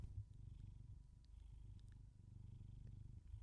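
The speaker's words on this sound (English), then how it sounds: "You may be able to hear a slight purr." A cat purrs steadily and softly up close, a low continuous rumble pulsing with its breathing throughout, with no talking over it.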